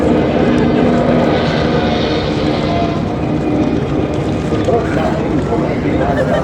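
A propeller aircraft takes off at the American Air Show at Duxford, its engines a loud, sustained droning roar that swells and shifts slightly while someone narrates over it.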